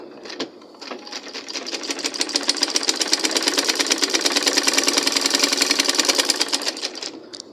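A sewing machine stitches a half-inch blouse seam with a rapid, even mechanical chatter that starts, builds to a steady run and then stops. It sounds close and clear, with no talking over it.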